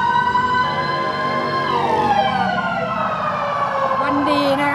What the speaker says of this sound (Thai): เสียงหวอผ่าน